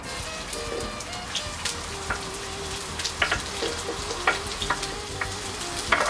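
Chopped onion dropped into a hot pan and frying, a steady loud sizzle and crackle with scattered pops and occasional stirring scrapes throughout.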